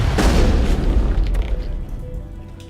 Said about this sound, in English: think that's the first time I've managed to successfully throw a grenade